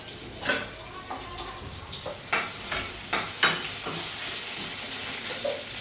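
Spoon stirring and mixing cooked dal palak with sambar masala in a pot, a series of short scraping clacks at an irregular pace, close and fairly quiet over a soft sizzle.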